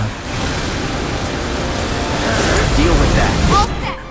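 Leviathan's Briny Bellow skill in Final Fantasy VII Remake unleashes a loud, rushing surge of sea-water spray, a broad roaring wash that swells and then cuts off abruptly.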